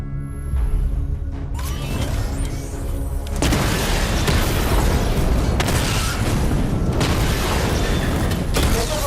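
Targets blow up in a Batman Arkham Knight combat simulation, a dense run of loud booming explosions and mechanical bursts layered over one another, nearly continuous and close.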